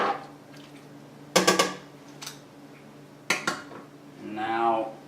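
A spoon stirs chicken pieces into chicken noodle soup in a pot, making two bursts of clanking and scraping against the metal with a faint clink between them, and a voice speaks briefly at the end.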